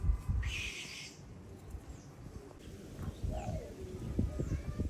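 Soft, low cooing of pigeons rises and falls amid a murmuring outdoor background, with a brief higher chirp partway through, at an enclosure of pigeons, rabbits and ducks near Sanchi Stupa, Vidisha, Madhya Pradesh.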